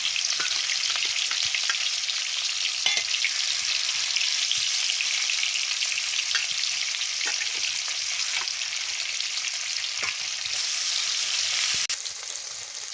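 Mrigal fish frying in hot oil: a dense, continuous hiss and crackle with scattered sharp pops, close up and steady throughout.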